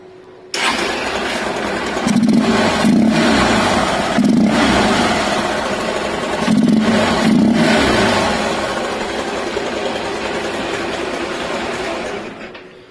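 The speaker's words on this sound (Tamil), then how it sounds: "இப்போ ஆன் பண்ணுற பைக் சவுண்டை பாருங்கள்." A modified Hero Ignitor motorcycle engine starts after a short pause, then revs loudly in several bursts before settling into a steady, fairly close idle; no voices over it.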